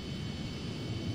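A Tu-154B airliner's engines in the FlightGear flight simulator give a steady, low, rumbling roar with a faint high whine, constant and unbroken throughout.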